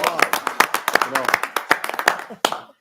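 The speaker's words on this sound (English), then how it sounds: "how about a round of applause?" A council meeting audience claps in a quick, uneven burst of applause that fades out near the end, with voices talking over the clapping.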